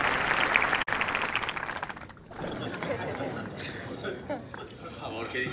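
A film festival audience at Sitges gives a brief burst of clapping that fades after about two seconds, followed by chuckles and murmured talk.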